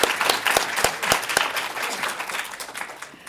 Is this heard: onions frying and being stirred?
no